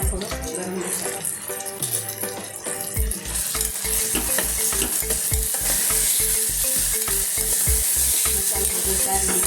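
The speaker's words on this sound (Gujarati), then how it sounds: "મસાલો સારી મિક્સ કરી દેવાનો" Coriander powder, garlic and garam masala stirred in a hot pan for dudhi chana dal shaak: a loud, close sizzle with a fast, regular rhythm of spatula strokes and knocks against the pan, no voices.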